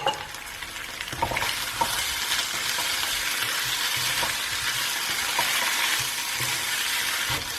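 Turmeric, fennel, coriander, asafetida, chili powder and pepper fry in hot oil for a vegan potato curry, giving a steady close sizzle with occasional stirring scrapes throughout.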